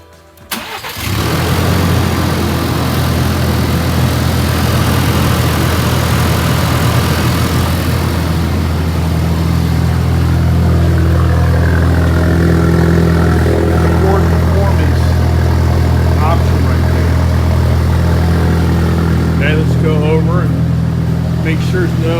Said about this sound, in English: Give her a start up and see how she does.